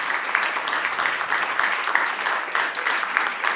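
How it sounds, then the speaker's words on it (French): Audience applause for the finalists and winners at the Challenge Ambition'elles 2025 awards ceremony, a steady, dense wash of clapping that holds evenly for several seconds without pause. "on les applaudit encore une fois"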